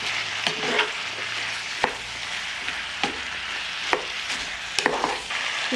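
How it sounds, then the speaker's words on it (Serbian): Meat and chopped onion rings stirred and frying in a pan, a steady soft sizzle broken by several sharp clicks and scrapes of the spoon against the pan. "Sve ću sad ovo promešati i nastaviti dalje da prži."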